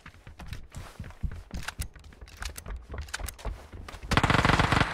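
Gunfire in a mobile battle royale shooter with a sniper rifle in play, with rapid bursts of shots and clattering footsteps-like thuds throughout, ending in a dense, loud sustained volley.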